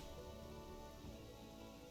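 Heavy rain falling in the video game Planet Zoo, a quiet, continuous wash of rainfall with a low thundery rumble beneath and no talking.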